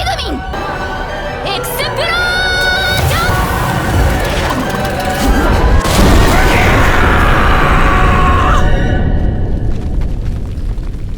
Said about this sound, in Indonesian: meminta Megumin untuk merapalkan sihir ledakan guna menyerang mereka semua sekaligus